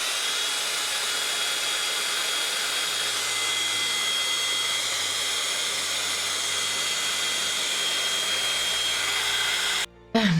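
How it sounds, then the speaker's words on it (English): Steady hot-air blower from a heat gun or hair dryer drying a painted Frankenstein football craft figure, a continuous close whooshing hiss lasting about ten seconds before switching off abruptly near the end. "I'm going to get the dryer on it."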